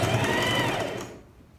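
Sewing machine stitching between yellow and green fabric on an Easter patchwork project, a steady close mechanical whir that runs loud and then stops abruptly near the end, no voices.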